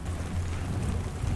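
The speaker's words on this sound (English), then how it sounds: "that's an actual storm. Strong winds." Storm in Death Stranding 2, with steady rain and strong wind forming a dense, continuous low rushing roar, close and unbroken.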